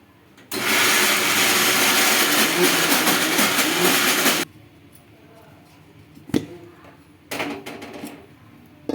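Mixer grinder grinding soaked poha batter with a little water, a loud, steady whirring roar lasting about four seconds before it cuts off abruptly, followed by a few clattering knocks of the jar.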